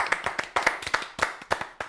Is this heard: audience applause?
yes